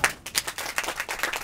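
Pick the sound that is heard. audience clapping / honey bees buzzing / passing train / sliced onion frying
audience clapping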